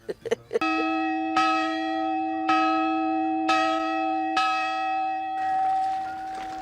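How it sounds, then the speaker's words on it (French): A large hail bell in a Loire village tolls steadily, one ringing stroke about every second, each strike sustaining a rich humming tone; a few quick clanks open the sequence. "en tirant cette cloche, en faisant bien du bruit avec eux, en carillonnant"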